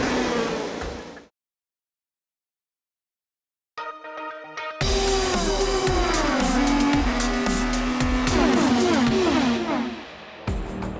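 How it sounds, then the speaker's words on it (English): IndyCar race car engines fire up at the 102nd Indianapolis 500. After a short silence and a brief mechanical clatter, a loud sustained engine roar swells with rising and falling revs and continues for several seconds. "Drivers, start your engine."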